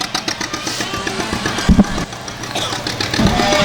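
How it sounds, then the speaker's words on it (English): Antique tractors roll past in a small-town Christmas parade, their engines idling and chugging at a steady mid-range rumble with a couple of louder low thumps, set against open-air crowd ambience. "And here comes our antique tractors."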